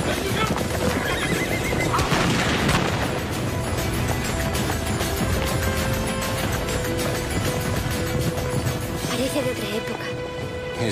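Horses neighing and whinnying loudly among clopping hooves, in a busy outdoor setting in Marrakech with equestrian tradition, with dense crowd noise and voices throughout.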